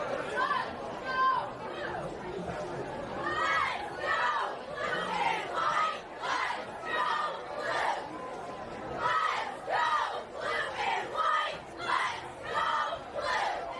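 Crowd at a varsity high school football game, Westerly Bulldogs against RHAM Raptors, with chanting and shouting voices and cheerleader calls rising and falling in rhythmic bursts, fairly loud and steady throughout.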